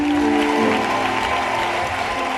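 A church congregation applauds and cheers in a steady, continuous wash of clapping, with a sustained tonal voice or instrument ringing underneath.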